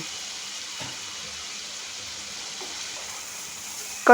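Shrimp fry and sizzle in a pan while being cooked down for a pumpkin and shrimp dish, a steady low hiss that runs throughout with faint stirring clatter and a brief knock at the very end.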